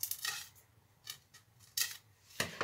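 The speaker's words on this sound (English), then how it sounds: "take my scissors so they line up with the part that's straight and then just cut to that point from the edge that's not correct" Scissors snip through a part for an advanced 3D aerobatic RC biplane build, four short crisp cuts spaced apart, close and fairly quiet with a low hum beneath and no talking.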